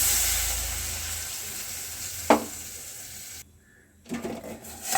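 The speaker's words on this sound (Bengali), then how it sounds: "পটল আলুটা কষাতে কষাতে আমি অল্প পরিমাণে জল দিয়ে দিলাম, যাতে মশলাটা পুড়ে না যায়।" Pointed gourd and potato fry with spices in a pan, giving a steady close sizzle. About two-thirds through it suddenly hushes, then brief crackles and spatters return. No one speaks.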